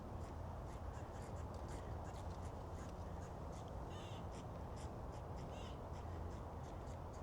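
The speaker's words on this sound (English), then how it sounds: "It's a squirrel warning everybody to hide." A squirrel chatters an alarm call from the trees at Deepwood Estate in Salem, Oregon, a series of faint repeated bird-like calls that come in short bursts over a steady outdoor background hiss.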